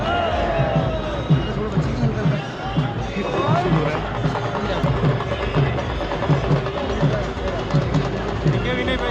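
A dense crowd of pilgrims packs the Kedarnath temple grounds at the door opening, a loud continuous babble of many voices with shouts rising over a steady rumble, close and unbroken throughout.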